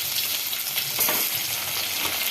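A tadka of spices crackles and sizzles in hot oil for a potato tomato curry, a dense continuous frying hiss with light stirring, close and loud, no talk.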